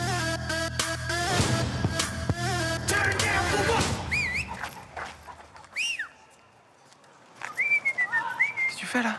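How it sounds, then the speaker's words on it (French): A person whistles short rising and falling tones in several bursts, near and clear, with a pause in the middle and some background noise early on. "Pourquoi tu siffles"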